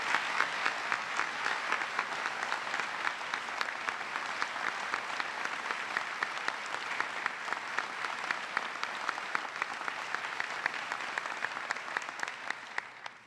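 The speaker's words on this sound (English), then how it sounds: "Please give them another round of applause." An audience at Ford's Theatre applauds Medal of Honor recipients with sustained, dense clapping from a large crowd, steady throughout and tapering at the very end.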